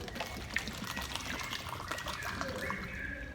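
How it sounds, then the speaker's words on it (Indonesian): Water is poured from a bottle into a glass, giving a soft trickling and gurgling splash that is close and moderately quiet, with faint background noise. "kita pindahkan air yang ada di botol, kita pindahkan ke gelas kembali"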